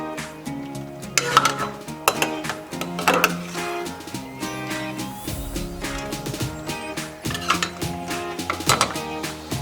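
Shrimp fettuccine stirred through a thick, creamy roasted red pepper sauce in a pan, giving steady scraping and clinking of utensil against cookware with soft wet squelches, continuous and close with no talking.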